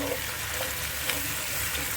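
Ginger and garlic fry in a pan with a steady, soft sizzle that stays close and even, with no talk.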